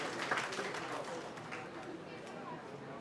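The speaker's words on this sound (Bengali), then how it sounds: "একটি জোরে করতালি হবে।" Loud applause from an audience at a celebratory event with guests, a dense, steady wash of clapping that holds for the whole stretch, with crowd voices mixed in.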